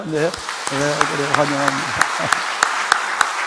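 A church congregation claps together during a Sunday service: sharp, evenly spaced claps ring out in a steady rhythm right after someone speaks briefly, the clapping carrying on alone to the end.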